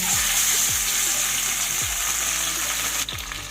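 Two Bhola fish fry in mustard oil with a steady, loud sizzle, broken by a few soft low knocks as the pieces are turned or moved in the pan.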